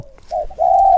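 A dove gives a short coo followed by a longer, drawn-out coo, close and clear against a quiet background.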